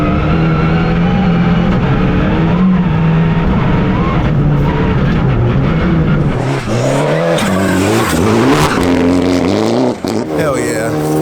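Loud roaring engine of a Mitsubishi Evo IX open class rally car revving hard, with tires squealing and skidding as it races, and a voice talking excitedly over the noise.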